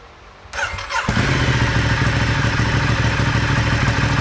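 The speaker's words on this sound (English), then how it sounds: "Now last step, of course, fire it up." A Ducati Diavel motorcycle with a Remus slip-on exhaust cranks briefly, then fires into a loud, steady, close-up idle.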